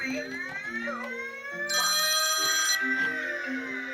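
An old-fashioned telephone bell rings in one brief, bright burst over sustained tonal sounds and voices.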